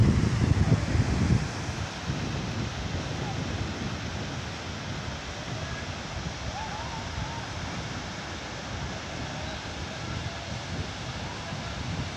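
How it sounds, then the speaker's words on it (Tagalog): Strong ocean waves: a continuous heavy roar of surf mixed with low wind buffeting on the microphone, loudest and most rumbling at the start, then holding steady. "Napakalakas ng alon."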